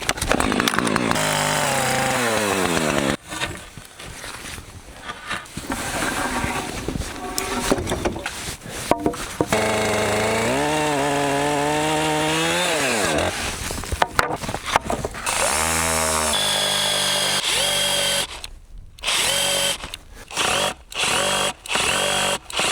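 A cordless drill with fully charged batteries drives screws into logs at an off-grid cabin site in Finland, in long loud whirring runs that rise and bog down under load, then shorter stop-start bursts near the end.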